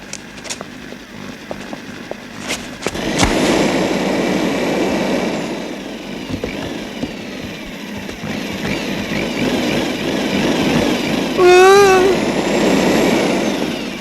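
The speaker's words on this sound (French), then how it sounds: "Oh, ce bruit de moteur." A cartoon vacuum cleaner's motor hums and drones steadily and loudly after a few sharp knocks, with a brief whistling squeal rising near the end.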